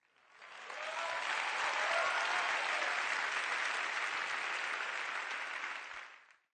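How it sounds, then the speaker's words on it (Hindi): A young audience applauds at a spiritual lecture, steady dense clapping that swells in, holds for about six seconds and tapers off, with no voices over it. "ये युवा तालियां क्यों बजाते हैं?"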